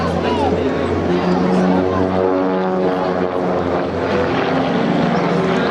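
Propeller aircraft engine drone from autogyros pulling up into a loop in line abreast formation at the Clacton-on-Sea air show, a steady, loud, sustained roar with a commentator talking over it.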